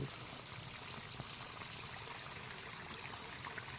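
Water flows and trickles steadily at low volume through a crop field flooded by heavy rain, a constant gentle rushing with no voices.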